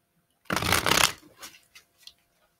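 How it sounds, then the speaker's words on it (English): A quick riffle of tarot cards close up, followed by a few softer taps and shuffles as the deck settles. "One more shuffle, one more shuffle."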